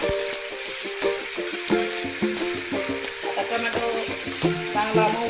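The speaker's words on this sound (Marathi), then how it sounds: "आता आपण त्यामध्ये टोमॅटो टाकून घेऊ" Onion and tomato sautéing together in a pan for a spiced curry, giving a steady close sizzle broken by repeated scrapes and clinks of a spoon stirring against the pan, with no talking.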